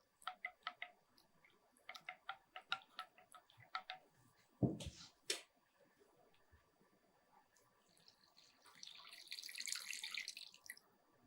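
Water poured into a pot of black urad dal rasam gives a soft, steady splashing rush near the end, after a run of light clicking and tapping sounds. No one speaks.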